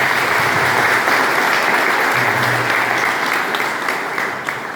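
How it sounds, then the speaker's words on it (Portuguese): A church congregation gives a steady round of applause during a church dedication and altar consecration, dense clapping filling the space and easing slightly toward the end. "Uma salva de palmas para 10."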